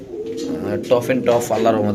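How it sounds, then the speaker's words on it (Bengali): A Lahori pigeon coos close by in soft rolling phrases, rising and falling, with someone talking over it. "এটা হলো একটা লাহরি কবুতর"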